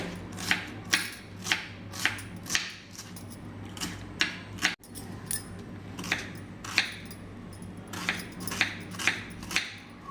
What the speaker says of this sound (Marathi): कांदा इथे आपल्याला बारीक कापून घ्यायचा आहे